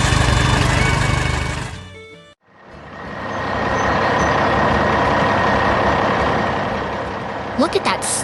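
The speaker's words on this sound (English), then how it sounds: "Look at that sturdy orange truck carrying its heavy load of bricks." An animated orange truck carrying a heavy load of bricks rumbles along with a steady engine drone, briefly cutting out and returning, ending with a few sharp splashy accents; a voice narrates over parts of it.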